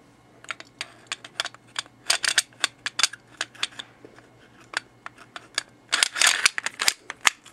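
A part is fitted back onto an S&W Sigma CO2 blowback airsoft pistol, giving close, sharp plastic and metal clicks and snaps in an irregular series with a faint background hum.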